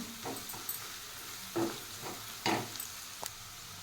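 Onions mixed with turmeric frying in a pan, a quiet low sizzle punctuated by a few distinct scraping strokes of a spoon against the metal, close and faint with no talking.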